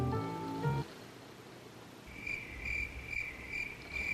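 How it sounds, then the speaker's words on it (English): Crickets chirp in a steady, high trill that starts partway through after a brief tonal snippet, continuing alone and moderately loud to the end. "Crickets."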